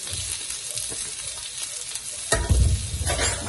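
Sliced onions and green chillies sizzling and frying in a pan for restaurant-style veg noodles, a soft steady crackle that swells into a louder burst of sizzle and stirring partway through.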